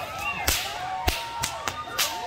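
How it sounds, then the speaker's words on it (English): Sharp cracks of a fire whip during a live performance routine at a renaissance fair, five or six crisp snaps spaced roughly half a second apart, loud and close against a hissing background. "Brand new fire whip routine for you this year."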